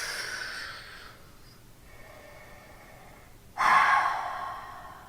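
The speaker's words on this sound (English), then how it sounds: "And then exhale. Fold." A slow, steady exhale during a yoga forward fold from a flat-back hinge at the hips, soft and close, with a louder breathy rush near the end; no talking.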